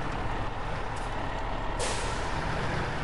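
A truck's parking brake engages in the off-road driving game Snowrunner, a sharp pneumatic hiss bursting out over a steady low engine idle, with no talking.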